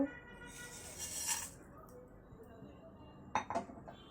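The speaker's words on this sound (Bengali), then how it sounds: "একটা প্যান বসিয়ে দিয়ে দিয়েছি এতে দিয়ে দিচ্ছি গোটা মশলাগুলো" Whole spices tipped into a pan on the stove for light dry roasting before making a sweet olive pickle: a brief dry rattle and scatter, then a couple of sharp metallic clinks, close and fairly quiet, with no talk.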